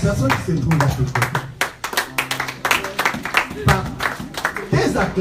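Congregation at an intercession prayer service clapping in acclamation, a steady run of sharp hand claps close by, with voices and a low sustained tone mixed in beneath.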